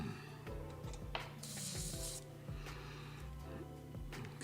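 A Mobius airbrush sprays water in one short, faint hissing burst lasting under a second amid quiet room noise.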